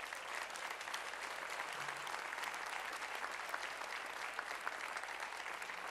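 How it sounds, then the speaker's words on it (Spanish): An audience at a civic honours and distinctions awards ceremony in Valdepeñas gives steady, dense applause in honour of women workers. The clapping holds evenly at moderate volume for several seconds with scattered sharper claps. "Yo quiero un aplauso para todas esas mujeres."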